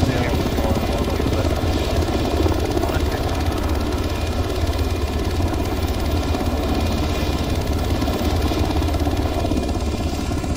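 Helicopter in the military game Arma 3, its rotor and engine drone steady and loud for the whole stretch, with radio-style voices talking over it.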